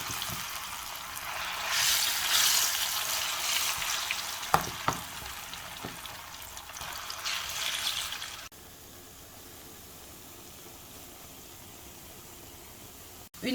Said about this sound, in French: L'huile est assez chaude. Là, je mets ma banane à l'intérieur.